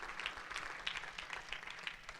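A church congregation claps in quick, scattered applause that stays faint and steady throughout, with no voices over it.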